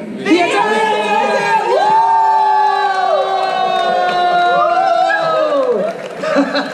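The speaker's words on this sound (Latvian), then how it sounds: "Un tā, aplausiem!" Crowd cheering and shouting with whistles at a band's album presentation, a loud, sustained roar of many voices from start to finish, rising again near the end.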